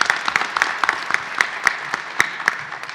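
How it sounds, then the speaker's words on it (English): Audience applauding a panelist at a panel discussion, a modest scattering of sharp individual hand claps that thins out and fades over a few seconds, with no speech. "So please, a big round of applause for Rain."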